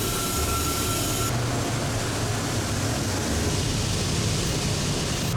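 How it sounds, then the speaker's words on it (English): A train rumbles past steadily, with a continuous broadband roar and low clatter filling the whole stretch at a constant, fairly loud level. "We got a train coming."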